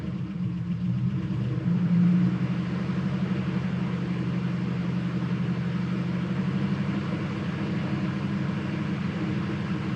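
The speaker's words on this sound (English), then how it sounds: "I'm gonna give it some throttle and get things circulating some." A car engine idles steadily during an oil change, a continuous close mid-pitched rumble with a brief rise in revs early on before settling back to an even hum.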